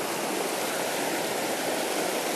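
Fast, shallow trout-stream water rushing over rocks, a loud, close, unbroken broadband roar holding steady throughout with no voices.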